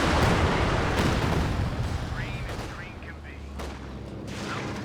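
A Calliope rocket artillery launcher fires in a video game, a heavy rolling rumble of blasts with brief whistling rockets, loud at first and easing off, with a voice faintly underneath.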